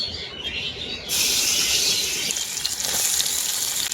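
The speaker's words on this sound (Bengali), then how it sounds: "ওই মাছ ভাজা তেলের মধ্যেই আমি দিয়ে দেবো কুচনো পেঁয়াজ" Chopped onion dropped into hot oil left from frying fish, a softer hiss that jumps into a loud, sustained sizzle and spatter.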